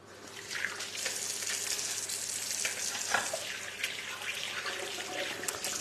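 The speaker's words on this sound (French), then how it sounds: "je me lave les mains" Hands washed under a running kitchen tap, a steady close rush of water with faint splashes, no talking.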